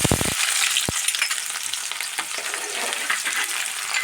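Onion frying in coconut oil in a pan on the stove, a dense continuous crackling sizzle with a couple of soft stirring knocks near the start.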